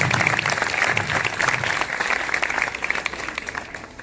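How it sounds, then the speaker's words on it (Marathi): A crowd at a citizen–police interaction event at a police station gives an officer a round of loud, continuous applause that starts strong and slowly tapers off toward the end. "एकदा सरांसाठी जोरदार टाळ्या वाजवा सगळ्यांना"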